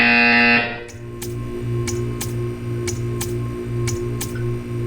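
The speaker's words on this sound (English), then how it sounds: "You will hear a buzzer." A loud electronic buzzer in Portal 2 sounds briefly, then gives way to steady clicks ticking about twice a second over a low, pulsing hum.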